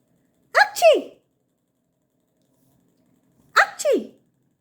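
A person fakes sneezes for a cat, giving two separate voiced sneezes a few seconds apart, close and fairly loud, with silence between them.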